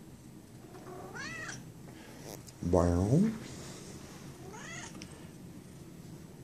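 A cat meows twice between bouts of human speech, with a louder, harmonic meow at mid-clip, all close and indoors.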